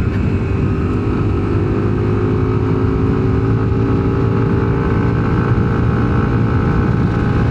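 A Yamaha Nmax Techmax scooter fitted with an NGK G Power platinum spark plug runs along a road, its engine a steady, close droning hum mixed with wind noise throughout.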